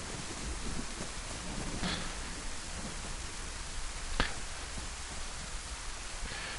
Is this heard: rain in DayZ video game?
yes